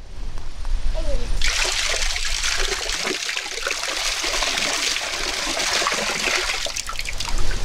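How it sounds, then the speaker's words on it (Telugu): Water poured from 13-litre pots into a tank, a steady loud splashing gush that sets in after a moment and carries on continuously, close by. "ఇప్పటికి 14 నీళ్ళ బిందెల్ని ఇందులో ఈ తొట్టిలో పోసుకున్నాం."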